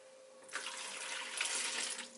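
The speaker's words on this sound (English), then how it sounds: "empties contents of measuring container into toilet" Urine poured from a measuring container into a toilet makes a steady, close trickling splash that starts abruptly and runs for about a second and a half before tapering off.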